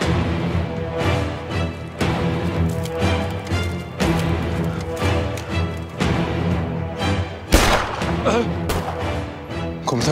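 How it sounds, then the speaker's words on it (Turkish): Dense, loud music-like background with a few sharp, booming gunshot cracks cutting through, the strongest near the end. "Komutanım silah sesi."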